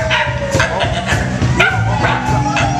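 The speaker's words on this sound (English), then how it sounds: "that sounds like a fucking dog" A dog yips and barks several times amid a loud, busy bar with music and voices underneath.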